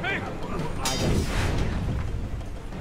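Gunfire in the video game Assassin's Creed Freedom Cry: a loud blast rings out near the start, followed by a rumbling echo and fainter shots fading into background noise.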